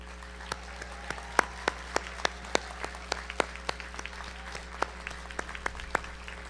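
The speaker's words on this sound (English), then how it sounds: "Let us show your appreciation, our appreciation, with a round of applause." A Woodbury University commencement audience claps in a large venue. The claps come as distinct, fairly regular beats rather than a dense roar, over a low steady hum.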